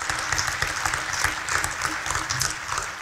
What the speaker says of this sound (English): give him a round of applause for a great job